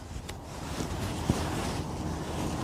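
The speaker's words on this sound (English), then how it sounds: "wind coming across the runway there." Steady wind blowing across an airport runway at Edinburgh Airport, a continuous broadband rush with gusty microphone buffeting and a couple of brief knocks, with no one speaking.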